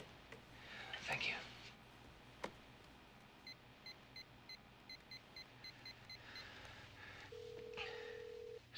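Quiet telephone dialing tones in a film scene, a series of short evenly spaced beeps as a phone number is keyed in, with faint background sounds and a brief voice before.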